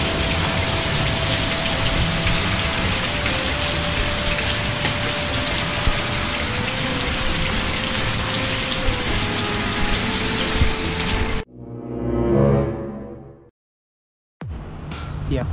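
A heavy downpour pounds down as a dense, loud, steady roar of rain for most of the stretch, then cuts off abruptly into short bursts of other noise and a brief silence.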